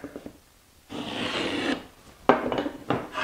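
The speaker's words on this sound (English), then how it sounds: "All I'm going to do is take a marking gauge." Marking gauge scribing lines on wood for a Greene and Greene style wall clock top, heard as a few close, short scraping strokes separated by brief quiet gaps, no speech.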